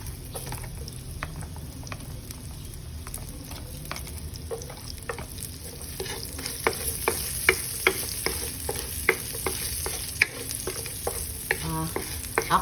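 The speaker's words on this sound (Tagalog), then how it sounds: "so saute the garlic" Garlic sizzles in butter in a frying pan, a continuous crackling hiss broken by repeated scraping taps of a utensil stirring it, close and steady.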